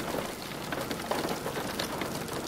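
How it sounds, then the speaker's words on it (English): Steady dense patter of large hail striking surfaces during a Central US storm, a continuous broadband rattle with scattered sharper impacts throughout, no voices. "that's some big hail starting to fall"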